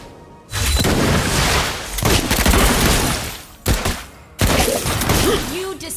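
Rapid gunfire from the marksman hero Clint in the mobile game Mobile Legends, loud bursts of shots with booming impacts in several bursts over about six seconds, and a game voice heard briefly.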